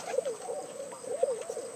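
A Portuguese tumbler pigeon coos close by in repeated rolling, wavering phrases, steady and clear over quiet background.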